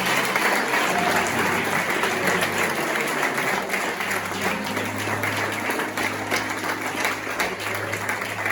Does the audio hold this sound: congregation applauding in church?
yes